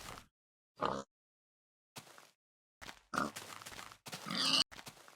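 Pigs grunting in the Minecraft video game, several short separate grunts spaced across the span with a louder cluster near the end, moderately close, with no talk over them.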